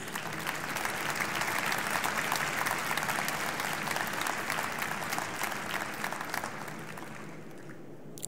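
Sustained applause from the audience at the 70th anniversary commemoration of the liberation of Auschwitz, a dense, even roar of many hands clapping for several seconds before it thins and tapers off at the close.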